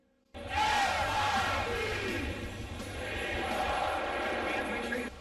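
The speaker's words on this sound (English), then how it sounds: "A rocking atmosphere at Mizzou Arena today. Fans booing former target Kevin Knox." Fans in Mizzou Arena boo during a Missouri basketball game against Kentucky. A dense, loud sustained roar of jeering voices starts abruptly and holds steady, filling the large indoor space.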